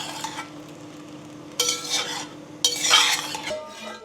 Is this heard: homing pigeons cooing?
no